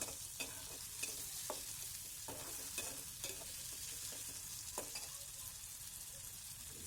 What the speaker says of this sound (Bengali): টমেটোটা আমি তেলের মধ্যে দিয়ে কষিয়ে দেব